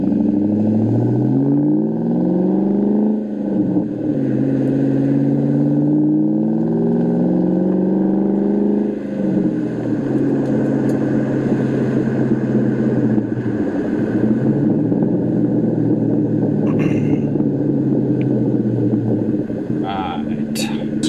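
2003 Ford Mustang Mach 1 with a stock 4.6 V8 and five-speed manual on a test drive, a deep burbling engine rising and falling through gear changes, heard from inside the car, with a voice over it.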